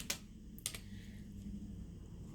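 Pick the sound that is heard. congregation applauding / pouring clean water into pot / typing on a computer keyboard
typing on a computer keyboard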